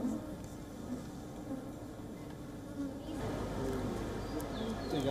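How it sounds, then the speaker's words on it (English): Western honeybees buzzing steadily at a rooftop city apiary, a soft droning swarm hum that grows fuller and closer halfway through, with occasional individual bees flying near. "researchers study colonies of bees in a rooftop apiary"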